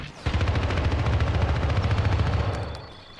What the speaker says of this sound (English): Having that dude shoot you in the background makes things a lot harder.